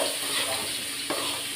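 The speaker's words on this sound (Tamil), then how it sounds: "சால்ட்டு போட்டு இன்னும் நல்லா எண்ணெயிலே வறுப்போம்." Brinjal pieces frying in hot oil with salt while being stirred, a steady close sizzle with a brief scrape of the spoon partway through.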